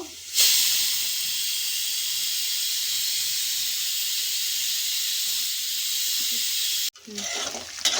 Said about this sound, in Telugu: ఇప్పుడు ఇది ఇలా ఫ్రై చేసుకోవాలి ఫ్రెండ్స్.